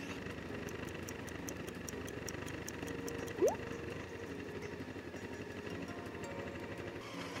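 A Honda CB500 motorcycle engine idles steadily while warming up from cold, a close, even mechanical chug with a brief higher whine partway through.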